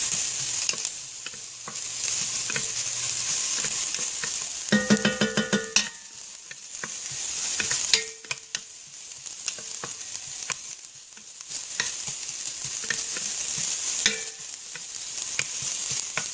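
Finely diced onions fry in a hot pan for baked meatball ziti, a steady close sizzle broken by the clatter and scraping of stirring, with a burst of utensil knocks partway through and no speech.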